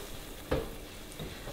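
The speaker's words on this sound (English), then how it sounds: "now we're gonna start frying the shrimp" Shrimp frying in about half a cup of hot oil in a pan over high heat, giving a steady close sizzle with one brief louder burst early on and no voices.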